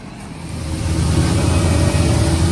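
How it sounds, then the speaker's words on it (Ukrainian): A heavy tractor engine runs steadily up close on frozen ground, its low rumble building slightly louder over a few seconds as it labors up a slope. "Вже і під горбок трактор не так буксує."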